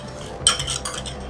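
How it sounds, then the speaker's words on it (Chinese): A whisk or spoon stirs milk and corn oil together in a bowl for chiffon cake batter, giving a few quick close clinks and scrapes against the bowl in a short burst, with no voice. "先将牛奶还有玉米油倒入盆中， 将它搅拌均匀"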